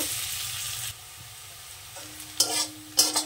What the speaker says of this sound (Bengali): দিলাম কটা পেঁয়াজ কুচি, পেঁয়াজটাকে হালকা একটু ভেজে নেব।